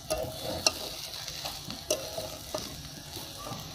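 Flattened rice poha stirred with ghee in a pan for a vegetarian pulao, a soft continuous sizzle with scraping strokes and a few sharper utensil taps.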